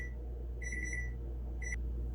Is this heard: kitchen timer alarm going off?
yes